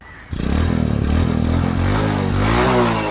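A 2022 Bajaj Discover 110cc motorcycle engine starts and idles close by, a steady throbbing putter with slight rising revs toward the end, running alone without talk.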